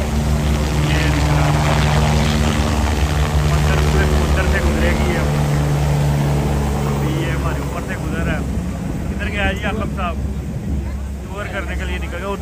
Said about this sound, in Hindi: अभी ये हेलीकॉप्टर की किसी ने राइड बुक करवाई हुई थी, और ये अभी ले कर निकल रहा है